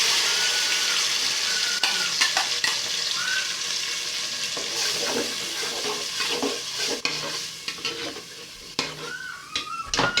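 Blended pepper and tomato sizzle and fry steadily in a pot for yam and beans porridge, with the clink and scrape of stirring running throughout, close and continuous without talk.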